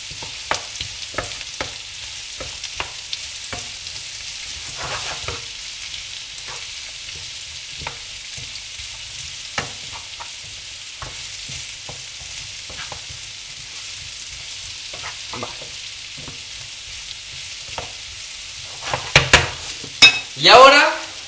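Lentils and potatoes frying in a pan give a low, steady sizzle while a spoon stirs with soft scrapes and taps, ending with a louder clatter of the pan or utensil near the end.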